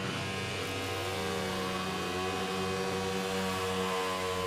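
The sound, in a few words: motorcycle burnout engine revving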